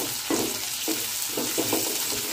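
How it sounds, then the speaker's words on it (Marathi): Onion and ginger-garlic paste fry in a pan for an elephant foot yam dish, a steady close sizzle with bursts of louder crackling as the mixture is stirred. "कांदो आणि पेस्ट मस्तपैकी भाजून घ्यायची"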